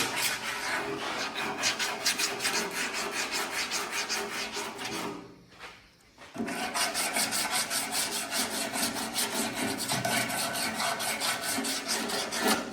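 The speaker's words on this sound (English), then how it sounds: "Then I went over the areas with a small block, such as you see here." Small hand sanding block worked over body filler on a car body panel, a close rhythmic rasping scrape in quick repeated strokes, pausing briefly midway before resuming.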